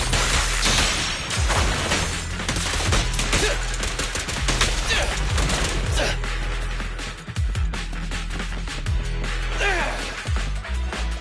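Rapid bursts of gunfire from Billy's guns in the video game Zenless Zone Zero crackle loudly and continuously for several seconds, dense volleys with brief gaps, mixed with impact crashes and some game voice.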